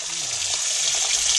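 Water gushes from a tap in a steady, hissing stream just after a new deep-well pump was installed, loud and close for the whole moment.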